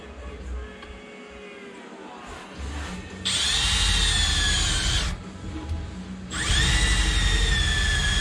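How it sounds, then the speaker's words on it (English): A step drill bores a hole through a rusty Volkswagen Beetle quarter panel, loud high-pitched whining in two long bursts with a short pause between them, over low workshop rumble. "I'm just going to drill a hole right in the middle."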